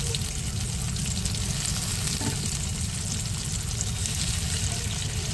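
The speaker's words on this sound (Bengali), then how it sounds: "এবার দিয়ে দেবো এখানে আদা জিরে বাটা আমি একসঙ্গে বেটে নিয়েছি" Paneer fries with a ground ginger and cumin paste in a pan, giving a dense, constant close-up sizzle with occasional soft stirring movements, continuous and even throughout, with no talking.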